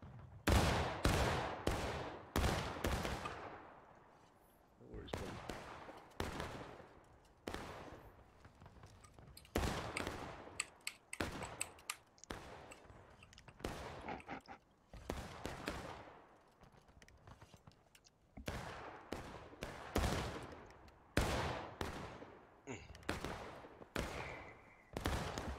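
Musket volleys in the video game War of Rights, with sharp cracks and rolling fusillades arriving in dense bursts, some close and loud, others spread out and distant, and almost no talk.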